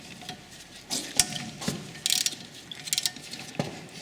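A hand socket ratchet with a 1/2 inch socket clicks through short bursts while loosening rear brake caliper bolts on a Dodge Grand Caravan, several quiet, irregular ratcheting clicks close by in a garage.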